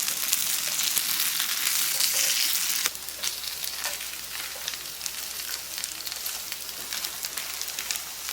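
Crispy moong and vegetable patties frying in oil, a loud dense sizzle close by that drops to a softer, steady crackle partway through, with no talk.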